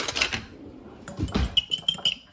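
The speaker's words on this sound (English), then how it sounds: "now you want to lightly beat the eggs" Eggs lightly beaten with a fork in a bowl in a home kitchen, heard as a quick run of close, light clinking taps and scrapes of metal against the dish over about two seconds.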